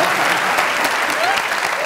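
A studio audience applauds for the Queen, dense, even clapping holding steady throughout at moderate level.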